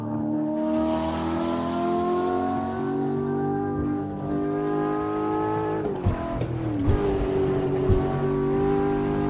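A muffled car engine drones steadily from inside the cabin in the video game Forza Horizon 6, revving up and down with a brief shift partway through, and no talking.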